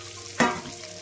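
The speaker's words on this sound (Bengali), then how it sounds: "আমি বেগুন যেটা হলুদ মরিচ দিয়ে মাখিয়ে রেখে দিয়েছিলাম সেটা আবার সেম তেলে আর একটু ভেজে নেব" Eggplant coated in turmeric and chili hits hot oil with a sudden sharp sizzle that flares loudly and then settles into a steady frying hiss.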